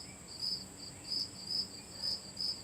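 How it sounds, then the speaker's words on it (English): A cricket chirps indoors in short, faint, evenly spaced bursts, about five trills repeating over a quiet background with no talking. "There's a cricket."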